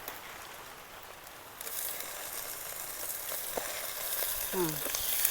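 Pork sizzles and spits in a hot pan, the frying growing louder partway through, with a few faint clinks.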